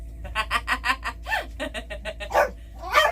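A little dog yaps in quick, sharp bursts at close range, with brief whiny yips mixed in, during a roadside moment with a team truck driver.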